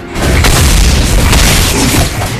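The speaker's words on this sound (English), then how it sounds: "Your team destroyed the turret!" A turret being destroyed in a hero-based team video game sets off a loud, deep boom that rumbles steadily for a couple of seconds, with no talk over it.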